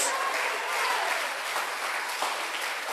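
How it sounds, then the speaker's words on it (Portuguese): A church congregation at a Portuguese-language celebration service claps together in a full, continuous burst, a broad even wash of applause that stays strong for the few seconds heard. "Se você crê, dê glória a Deus, diga aleluia e aplauda Jesus."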